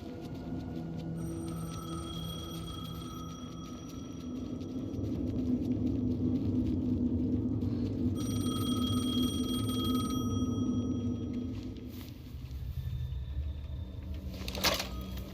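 A payphone rings in Alan Wake 2 as repeated electronic ring bursts over a low, heavy ambient rumble that swells and fades. No voices.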